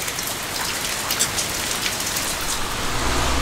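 Heavy rain pours down during a hike on the 88 Temples pilgrimage trail in Japan, a loud, dense, unbroken hiss of drops striking nearby surfaces with no voices present.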